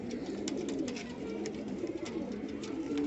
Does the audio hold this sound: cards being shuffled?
no